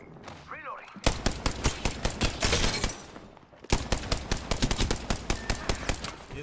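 Rapid, loud gunfire in the video game Apex Legends sounds in two long, tightly spaced volleys with a short break between them, up close and dominating the mix.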